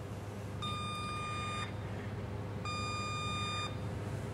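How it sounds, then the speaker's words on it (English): An A/C refrigerant leak detector with a heated sensing tip powers up and emits two sustained electronic beeps, each about a second long, separated by a short pause, over a quiet room hum. "the new standards for leak detectors. That's what this one is. We'll get that started up."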